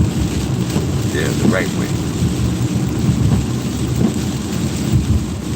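Heavy morning rain pours down with low rumbling thunder rolling through, steady and close, while someone speaks briefly over it.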